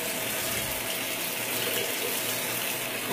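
Water runs steadily from a tap as something is rinsed under it, a constant close gushing stream that fills the whole moment without any voice.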